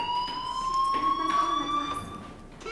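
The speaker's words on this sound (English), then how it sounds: "Hey, do you hear that fire alarm?" School fire alarm in the video game Life is Strange, a loud, steady electronic alarm tone ringing continuously throughout, with faint background sound underneath and no talking.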